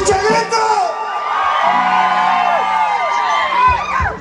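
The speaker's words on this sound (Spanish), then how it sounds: "¡Que se escuche el grito!" Loud celebratory shouting and whooping at a Mexican wedding, a festive grito rising over a lively crowd, with voices layered in continuous cheering throughout.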